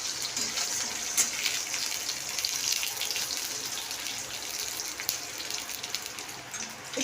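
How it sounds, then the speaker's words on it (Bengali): Onions frying in hot oil after garlic, at the start of cooking chhechki greens: a steady, close, crackling sizzle that hisses without a break and has no talk over it. "পেঁয়াজ ফোড়ন দিচ্ছি"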